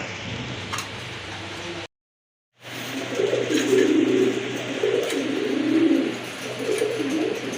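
Pigeons at a bird market coo steadily and close by in low, rolling murmurs. The sound cuts out briefly, then returns fuller and louder.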